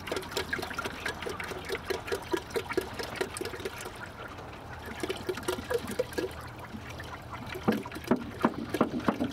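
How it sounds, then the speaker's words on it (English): Water pours and splashes steadily into a heated 2-gallon poultry waterer for quail, with continuous trickling and bubbling gurgles throughout, close by and moderately quiet. "I just bring water out when it needs it"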